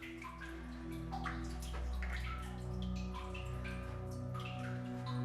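Sloshing and splashing water echoes as someone wades waist-deep through murky brown floodwater in a straight arched mine tunnel cut through red sandstone, with steady low hum beneath irregular drips and swishes.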